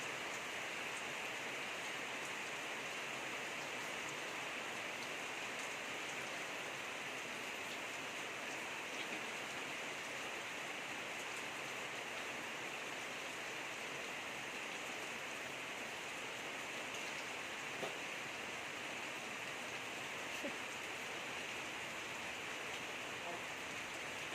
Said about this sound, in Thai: ถ้าฝนตกช้างจะอารมณ์ดีนะคะ